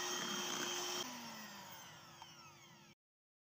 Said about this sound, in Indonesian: Ini kita ayak lalu sama kita mixer lagi hingga semuanya tercampur rata